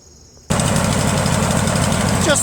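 A Craftsman LT1000 lawn tractor engine catches after a moment of quiet and settles into a loud, steady idle close by, with a continuous rumbling drone and no talk over it.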